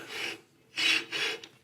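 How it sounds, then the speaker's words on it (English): A section of a Bessey I-beam clamp slides along its rail in three short, rough scraping bursts, close and loud, with brief pauses between them. "I'm having a little bit of trouble moving this section of the clamp around on the rail"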